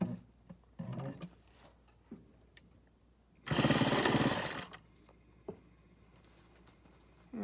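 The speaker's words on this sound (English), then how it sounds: "we're gonna sew along this edge here, and we're gonna sew as closely to that edge as possible" A sewing machine runs one loud continuous burst of about a second, stitching close along a fabric edge of a washable isolation gown made from bedsheets, set between quieter clicks and handling noises.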